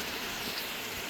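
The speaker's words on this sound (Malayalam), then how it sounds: "നല്ല മഴയാണ്." Heavy rain pours down steadily at Padinjarathara, a dense even hiss with no break across the short moment and no voices.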